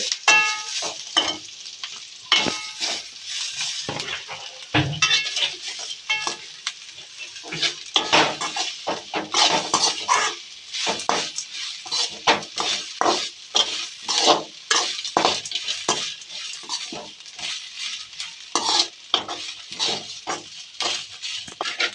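Grated coconut sizzles in a hot pan while a spoon stirs and scrapes it for coconut rice, giving a busy run of repeated metallic scrapes and clinks over a frying crackle, close and fairly loud.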